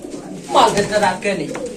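A very large fancy pigeon coos softly nearby while someone talks over it.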